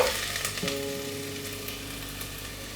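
Finely chopped onion sizzles and fries steadily in a pan with whole spices for a potato stew, a continuous close crackle with no talk.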